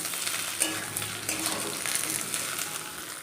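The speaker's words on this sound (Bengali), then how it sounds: "এবার এভাবেই নেড়ে চেড়ে ভেন্ডিটাকে লাল করে ভেজে নেব" Okra (bhindi) sizzles in a pan while being stirred, a constant crackling fry with soft scraping pushes and light clinks, close and steady throughout.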